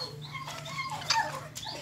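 Dogs indoors whining and yelping, with high thin whimpers and a couple of short sharp yaps, moderately close but fairly quiet.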